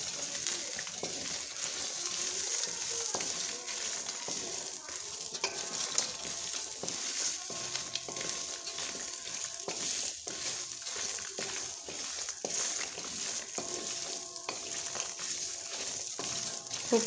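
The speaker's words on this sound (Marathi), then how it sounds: "मस्तपैकी आपण हे हलवून घेऊ." Fresh green chickpeas roast in a pan while being stirred, giving a continuous soft sizzle with scraping and light rattling throughout, close and fairly quiet.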